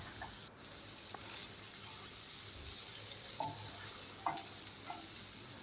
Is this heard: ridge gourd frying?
yes